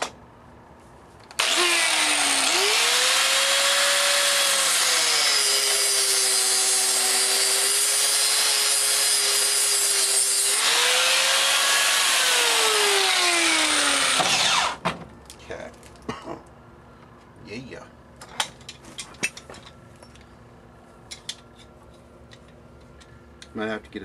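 A power tool cuts through the shell of a stuck drill chuck in one loud sustained burst lasting about thirteen seconds, its pitch sagging under load and rising again, then it stops, leaving faint scattered clicks and handling noises.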